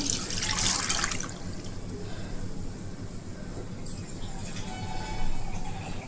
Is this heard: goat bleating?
no